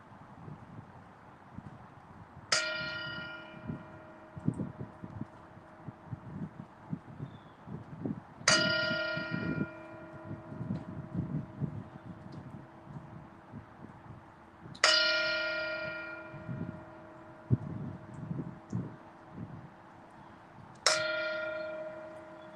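A mindfulness bell rung during a Sunday meditation service, four clear resonant strikes several seconds apart, each ringing out and slowly fading over soft room noise.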